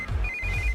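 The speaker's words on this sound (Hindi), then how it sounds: "इस वक्त दीदी का फोन।" A telephone ringtone sounds as a single short, steady tone at moderate volume.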